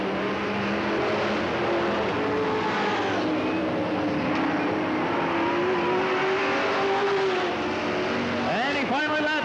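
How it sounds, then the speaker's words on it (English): Outlaw super stock race cars roar around a speedway in a dense, continuous wall of engine noise, loud and steady with a car sweeping past near the end, under a race announcer's commentary. "And he finally laps the sixth place car, Vern Goof"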